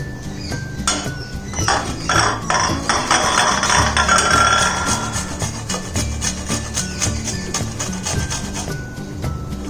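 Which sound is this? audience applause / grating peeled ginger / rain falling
grating peeled ginger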